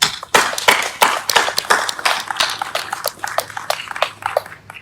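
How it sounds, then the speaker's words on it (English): Applause from the audience at a library dedication ceremony, a dense run of sharp claps that starts abruptly, stays fairly loud and close, and thins out toward the end. "give a round of applause to former Supervisor Adrian Tessier"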